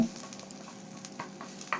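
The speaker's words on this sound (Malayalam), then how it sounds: "മുരിങ്ങയില ഇതിലേക്ക് ചേർത്തതിന് ശേഷം നല്ലതുപോലെ ഒന്ന് ചൂടാക്കിയെടുക്കുക" Moringa leaves stir-fried in a hot pan give a quiet, continuous sizzle with soft scraping stirs and small crackles, no voices over it.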